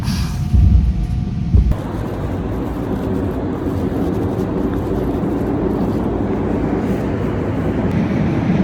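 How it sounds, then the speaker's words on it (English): A loud, continuous rumble from a passing train fills the clip, a dense roar that sets in after a brief thump and holds steady. "it's a little loud. This train is driving here."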